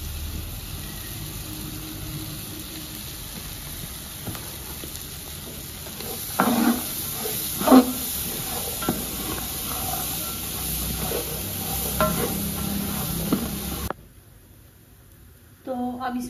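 Kala chana curry frying and being stirred in a pan with salt, roasted coriander and garlic, giving a steady sizzle with scraping spoon strokes, a brief louder clatter midway, then it drops away near the end.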